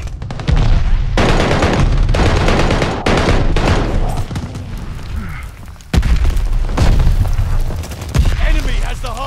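Heavy gunfire and booming blasts in the Call of Duty Vanguard video game during a hardpoint fight, with loud bursts of automatic fire cutting in and out and a game announcer's voice under the din.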